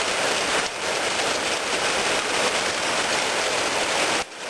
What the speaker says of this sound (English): Yep, so it's raining.